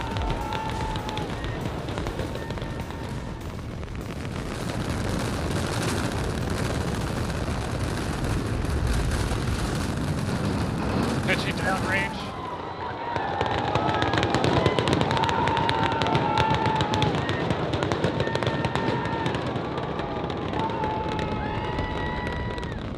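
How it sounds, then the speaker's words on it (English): Starship rocket at liftoff, a sustained broadband roar with crackling rumble lasting throughout, loud and steady, shifting in character partway through. "We have liftoff."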